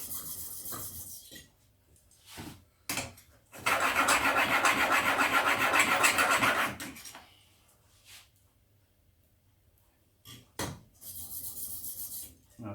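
A chisel rubs back and forth on a fine waterstone in long, even gritty strokes, one sustained pass among shorter scrapes, close up and fairly quiet.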